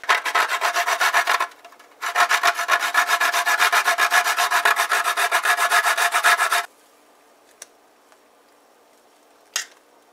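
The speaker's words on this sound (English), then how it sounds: "grate our nutmeg in there" Whole nutmeg grated by hand for a Guyanese doodhpitty dessert, close rapid rhythmic scraping strokes in two bursts, a short one then a longer run of about four seconds, followed by quiet with a couple of faint clicks.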